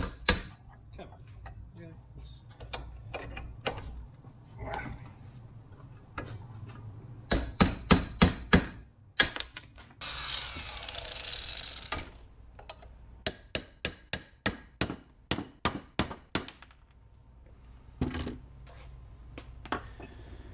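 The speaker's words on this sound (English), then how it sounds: "chisel and hammer. I'm going to pop these rivets out" Sharp metal-on-metal strikes from a hammer on a chisel knocking out rivets on a GMC motorhome control arm, some in quick rhythmic runs and others spaced out, close by, with a faint grinding scrape between.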